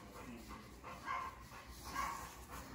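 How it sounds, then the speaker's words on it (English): Several dogs bark and yip in the background at a veterinary clinic, a scattered run of distant, moderately loud barks with a few whimpers, heard while a pit bull with a painful boil between its claws is being calmed. "You hear the other dogs?"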